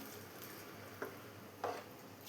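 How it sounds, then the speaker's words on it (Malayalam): A spoon stirring a prawn and green mango curry in a pot, a soft low background simmer broken by two brief scraping clinks, quiet and close, no voices. "ഇതെല്ലാം കൂടെ നന്നായി ഒന്ന് മിക്സ് ചെയ്തെടുക്കാം."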